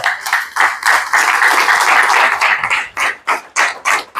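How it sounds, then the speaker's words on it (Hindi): An audience at an RCM business event claps hard, with a sustained burst of applause that breaks into separate rhythmic rounds of clapping toward the end. "से तालियां बजा सकते हैं आप।"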